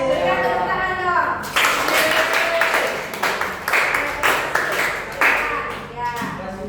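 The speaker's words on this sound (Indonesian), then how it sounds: "berikan tepuk tangan dong" Students in a classroom clap for a group after its presentation, a short burst of clapping that starts after someone speaks and mixes with chatter and voices throughout.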